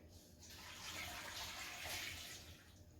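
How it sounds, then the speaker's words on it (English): Water pours steadily into a pot for vegetable soup, a soft continuous rush that swells in the middle and tapers off at the end, fairly quiet with no talking. "now we're just going to add 6 cups of water"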